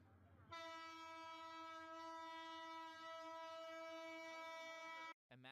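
A train's horn blows one long, steady, loud harmonic blast from a nearby locomotive, holding for about five seconds before cutting off abruptly.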